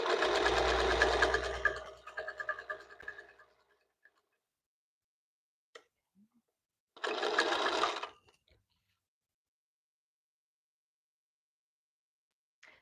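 Sewing machine stitching quilt binding, running over a mitered fold at the corner: a loud buzzing stitch burst of about three seconds, then silence, then a second short burst near the end.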